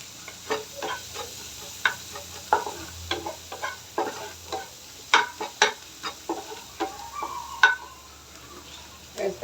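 Onion frying in a pan for an egg and pointed gourd mash, with a steady sizzle under repeated scraping stir strokes close by, irregular and clattery, with no talking.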